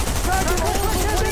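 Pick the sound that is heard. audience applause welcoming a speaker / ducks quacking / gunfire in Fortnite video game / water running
gunfire in Fortnite video game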